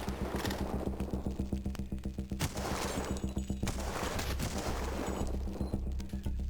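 Rapid gunfire rattles through a shooter video game, with bursts of repeated shots and booms layered over a dense, continuous battle din.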